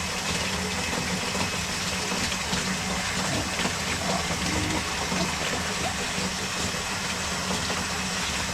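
A newly installed sump pump runs loudly and continuously, motor hum mixed with rushing, gushing water as the pit is pumped out fast, steady throughout with no talking.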